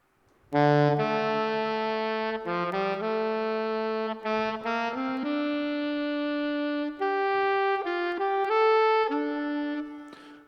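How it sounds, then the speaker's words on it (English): A dry, reverb-free saxophone plays a short melodic phrase of sustained notes, alone and clear, with no other sounds around it. "It sounds like a dry saxophone"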